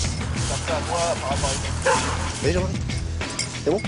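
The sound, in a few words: border collie barking to signal it found the victim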